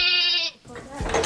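Farm goats give a loud, close, wavering bleat, followed by a shorter, rougher call.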